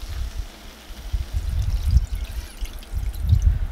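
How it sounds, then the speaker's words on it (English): Beef broth poured into a pot of flour-thickened pot pie filling, a low bubbling, splashing trickle that runs steadily for a few seconds with slight surges, close and fairly quiet, no talking. "just keep doing this until you've added all of your beef broth."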